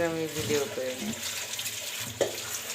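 Kitchen tap water running while cut sweet pumpkin and vegetables are washed by hand, a steady splashing stream under a voice talking close by.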